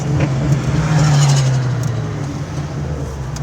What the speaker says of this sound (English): Downshifting from fifth, no issues.